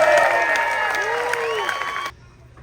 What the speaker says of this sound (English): let's give all these young kids in here a huge round of applause